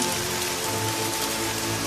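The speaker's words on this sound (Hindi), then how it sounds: "लेकिन बारिश रुकी नहीं।" Heavy rain falls steadily in an animated village story, a dense, even hiss of drops on surfaces throughout, with no voices.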